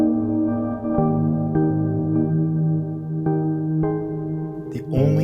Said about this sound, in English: The only sound you're hearing right now is the subharmonicon going through Cumulus.